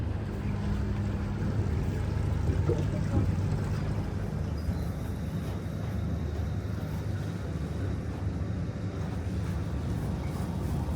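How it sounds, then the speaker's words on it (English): A tour boat sails the Beagle Channel off Ushuaia, Argentina. Its engine gives a constant low rumble, blended with wind buffeting the microphone and the wash of water, with no break throughout. "Setting sail into the iconic Beagle Channel"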